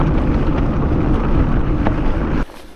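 Strong wind buffeting the microphone during a mountain bike ride, a loud continuous low rumbling roar that stays steady and then drops away abruptly near the end, with no talk.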